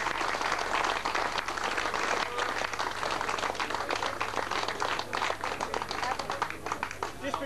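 An audience at a 1986 kart road race event in Peel, Isle of Man, gives a round of applause, dense crowd clapping that stays loud and sustained for several seconds, with a few voices mixed in.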